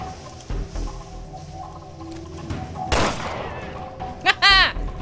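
Gunfire from the video game Resident Evil: Revelations 2, a sharp burst of shots followed by a quick rattling volley, with a voice talking over the game audio.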